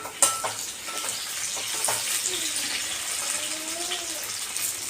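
Onion pieces and green chillies frying in a pan, with a steady close sizzle and stirring scrapes throughout, a few sharper clinks, and no talk.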